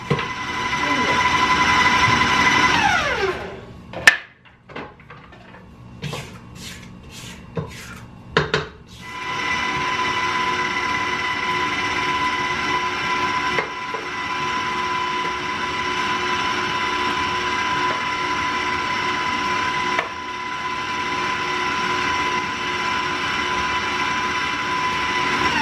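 Electric mixer at medium speed creaming butter with white and dark brown sugar, a steady loud whirring drone that cuts out briefly with a few clicks and knocks before resuming and running continuously.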